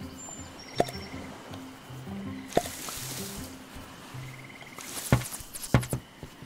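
Potato plants being watered in the island farming game Stranded Sails, a few short soft splashy squishes and drips in separate bursts against a quiet background, with no talking.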